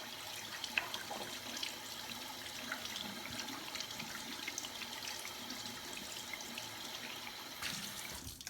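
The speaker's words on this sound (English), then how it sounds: "And then I rinse off the soap really well." Tap water runs steadily to rinse soap off a menstrual cup, a soft continuous splash and trickle at low volume with no voices.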